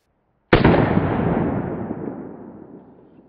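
A 7.65 mm pistol round striking a kevlar helmet set on a watermelon: one sudden loud bang followed by a long, fading, echoing tail.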